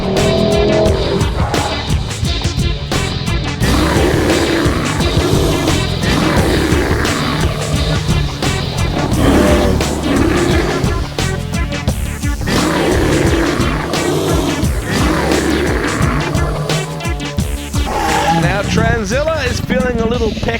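The Transzilla monster truck's engine roars and revs loudly and continuously while it crushes a small car, with bursts of crunching metal and a commentator talking over the noise.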